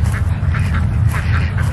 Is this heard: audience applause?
no